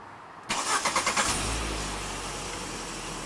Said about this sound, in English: I'm gonna let you hear the hum of the engine.